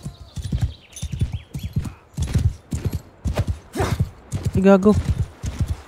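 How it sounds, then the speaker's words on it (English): Mounted horse in a war video game plodding along, a steady rhythmic clip-clop of hooves with a short whinny partway through, close and prominent, while someone briefly speaks over it. "Mount the horse."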